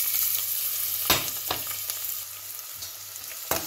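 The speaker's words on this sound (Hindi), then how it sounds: "थोड़ा सा इसे सौटे करें" Onion with ginger-garlic paste sizzling in hot oil in a kettle-style pot, a steady close frying hiss broken by a few scraping stirs.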